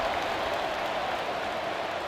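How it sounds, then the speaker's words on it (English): A football stadium crowd at Clemson vs. Georgia Tech buzzes after a touchdown, a steady roaring wash of noise with no distinct peaks. "this crowd is buzzing after that last score"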